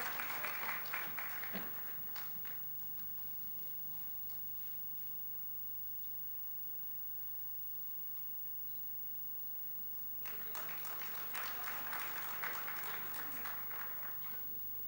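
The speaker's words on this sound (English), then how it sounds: "Let's have a warm round of applause" An audience at a business convention inauguration gives a round of applause, starting in a burst, fading into a long quiet stretch of room hum, then swelling again into steady clapping from a sizable crowd at a moderate distance.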